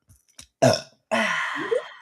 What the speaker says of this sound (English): oh my god, I got a burp.